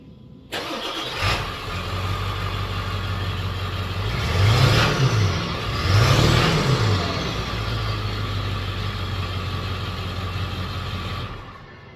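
A Ford 7.3 Powerstroke diesel on stock exhaust runs steadily at idle with a deep low rumble, rising in two brief revs before settling back, loud and close with no talking.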